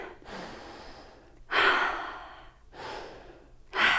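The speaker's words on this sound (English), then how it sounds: "big breath into the heart" Deep, breathy yoga inhales and exhales repeat in a slow rhythm, with airy surges at about 1.5 and 3.7 seconds, close and clearly audible without talk.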